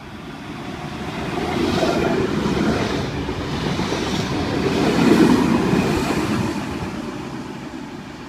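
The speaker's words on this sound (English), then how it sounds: "It's about to pass platform 2, and it is a Newcastle service." A VSET intercity train in intercity livery, a Newcastle service, rolls past platform 2 at Kotara station with a steady rumble and rail clatter that swells twice, loud and close, with no talk.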